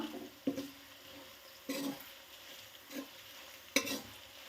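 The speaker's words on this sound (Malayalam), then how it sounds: "ഇനി നല്ലപോലെ ഒന്ന് ഇളക്കി കൊടുക്കുക" A spoon stirs kanthari chilli pickle with Kashmiri chilli powder and turmeric in a pan, giving four distinct scraping strokes spaced about a second apart over a soft, steady sizzle, close and fairly quiet with no voices.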